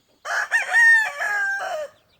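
A gamefowl chicken gives a single clear, close crow-like call with rising and falling harmonic tones, about one and a half seconds long, alone against silence on a farm.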